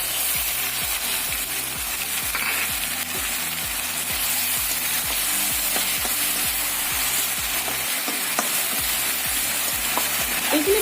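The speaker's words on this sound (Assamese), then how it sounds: "এতিয়া ইয়াত মই আদা নহৰুৰ পেষ্টখিনি দি দিম" Ginger-garlic paste, bay leaf and panch phoron spices frying in oil in a home kitchen pan, a steady close sizzle running throughout with a regular rhythm of soft stirring or tapping beneath it, no voices.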